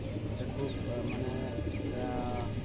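Racing pigeons coo softly nearby amid a low murmuring background, with a few faint chirps from other birds.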